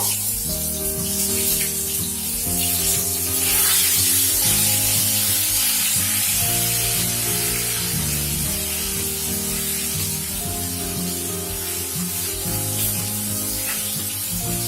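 Ginger paste and nigella seeds fry in a pan on a lowered flame, giving a steady, close sizzle with a bright hiss throughout and no talking.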